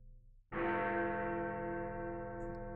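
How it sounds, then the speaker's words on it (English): A clock bell in a visual novel video game strikes midnight, one loud, sustained toll with a sharp onset that rings on with long, slowly fading overtones. "The clock was striking midnight."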